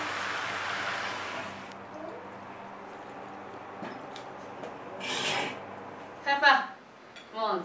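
Fish-fragrant shredded pork with carrot, wood ear and green pepper being stir-fried in a wok, a sizzling burst followed by scattered spatula scrapes and clinks against the metal, then a few louder scraping strokes near the end.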